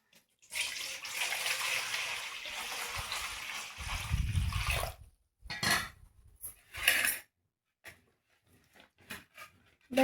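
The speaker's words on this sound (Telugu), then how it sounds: "ముందైతే ఇవన్నీ నీట్గా కడిగేసుకుందామండి" Okra (lady's finger) rinsed by hand under a running tap, a steady gush of water for about five seconds, then short splashes and clinks of the pods being handled in a basin.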